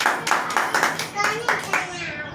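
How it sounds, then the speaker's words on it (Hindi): A small group claps after a children's story in short uneven bursts, several quick rounds of hand claps close by, with a voice briefly underneath. "मजा आया? ताली बजाओ।"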